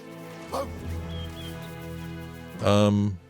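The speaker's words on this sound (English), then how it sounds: "Did you just bark?" A dog barks in the Baldur's Gate 3 video game, a short sharp bark near the start and a louder, fuller one near the end, set over steady game music and ambience.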